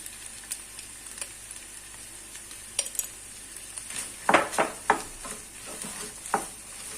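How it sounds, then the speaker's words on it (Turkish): Potatoes seasoned with salt and chili flakes sauté in a pan under a steady, gentle sizzle, while a utensil stirs with several sharp scrapes and clinks close by. No one speaks. "3-4 dakika güzelce patateslerimizin kavrulmasını sağlayalım."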